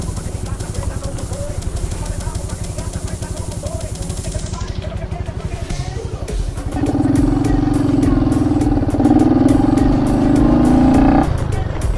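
A Honda Wave 110i LED motorcycle engine runs steadily with a rough, rattling tone, then swells louder and revs harder in the second half, close and continuous with no speech.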